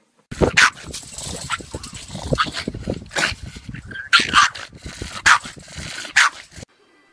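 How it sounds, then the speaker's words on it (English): A pet dog whimpers and yips repeatedly, with high-pitched whines and sharp yelps coming in irregular bursts close to the microphone. Faint talk and background noise sit beneath the cries. "Oh, Sophie, you're such a good dog. Good puppy, good girl"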